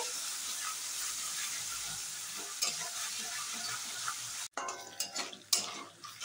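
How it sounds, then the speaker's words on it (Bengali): Ginger-garlic paste fries and is stirred in a pan over low heat for a cauliflower roast: a steady close sizzle for about four seconds, then a sudden break into quieter frying punctuated by scraping and clinking utensil strokes. "দেব আদা রসুন বাটা 1 চামচ। ভালো করে কষিয়ে নেব।"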